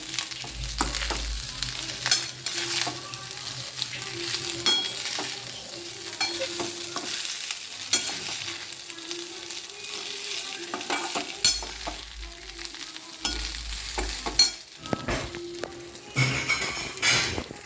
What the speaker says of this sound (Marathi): थोडंसं फुल गॅसवर करायचं आणि थोडंसं पहिल्यापासून हलवायचं